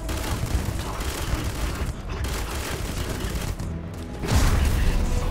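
Gunfire from the player's weapon in the space video game Starfield, a dense burst of rapid shots layered over loud game sound for several seconds, ending in a heavier blast.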